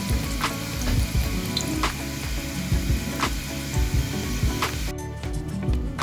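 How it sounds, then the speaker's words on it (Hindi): Onions fry and brown in a pan for a chicken biryani, making a steady, dense sizzle with faint stirring scrapes throughout and no voices. "प्याज को पकाएंगे, पकाकर इसको ब्राउन करेंगे"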